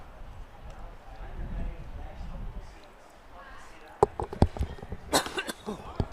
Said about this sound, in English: Excuse me, a little cough here.